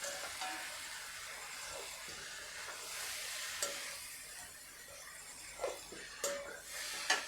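Fried cashews and raisins being stirred into puffed rice pulao in a pan, giving a soft continuous sizzle with scraping stirs and a few sharper clinks of the spoon, steady and close.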